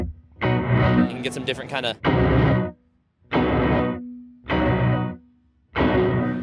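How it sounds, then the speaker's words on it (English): An electric guitar through a Fender reverse gated reverb pedal at Summer NAMM 2019 plays five loud bursts of swelling, effected chords, each ending in an abrupt cutoff. Someone speaks over the playing. "Here's the reverse gated reverb."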